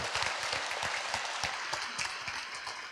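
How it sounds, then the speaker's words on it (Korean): Applause from an audience at a Buddhist temple's Buddha's Birthday ceremony, a steady wash of many hands clapping close and fairly loud for the whole stretch, with no talk over it. "뜨거운 우리 굉장히 박수 한번 해주시면 고맙겠습니다"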